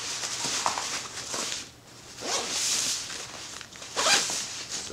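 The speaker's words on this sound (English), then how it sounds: "Zip it all up." A Think Tank Photo modular camera bag being zipped shut, with several quick rasping zipper pulls in bursts and short pauses between them, close and fairly loud with no talking.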